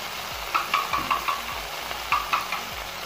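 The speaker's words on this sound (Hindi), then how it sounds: "अब तो हमारी सब्जियाँ अच्छे से सौते हो गई हैं।" Vegetables sautéing in a pan for chicken fried rice, with a steady sizzle and repeated scraping stirs of a spatula at an even rhythm, close and moderately loud with no talking.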